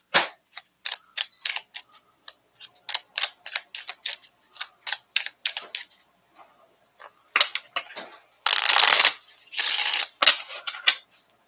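Tarot cards being shuffled by hand, a rapid series of crisp riffling snaps and flicks close to the microphone, broken by pauses and two longer bursts of continuous card riffling near the end.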